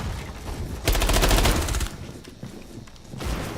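Video game gunfire erupts in a dense, loud burst of rapid shots for about a second, then trails off into quieter scattered shots and background action noise.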